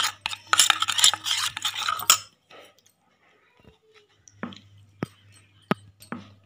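A spoon briskly stirs water into a spice paste in a bowl, giving a fast scraping, clinking burst that stops abruptly, then a pause before a few separate sharp taps against the bowl.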